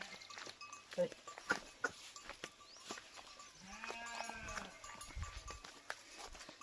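Goats in a village herd bleating at a moderate distance, several wavering calls mixed with hoof and movement noises, while a person talks over them.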